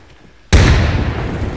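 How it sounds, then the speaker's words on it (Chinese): A stun grenade in the video game ArmA goes off with one sudden, sharp, loud blast after a brief quiet, followed by a rumbling decay that lingers to the end. "那个震撼弹可能伤到他了"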